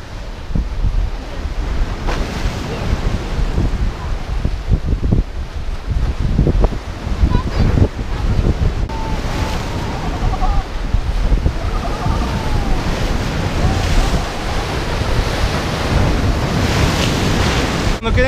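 Sea waves break on a rocky shore at Alushta in Crimea, a loud, continuous surf with repeated crashes and wind buffeting the microphone.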